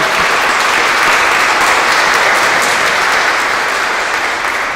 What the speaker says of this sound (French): Donc nous allons acclamer plus fort pour les trois.